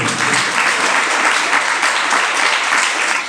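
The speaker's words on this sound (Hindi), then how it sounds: "ताली बजाओ ना, बजाना" Audience applause at a Jain religious discourse in Hindi, dense steady clapping from a large crowd, loud and continuous throughout with no break.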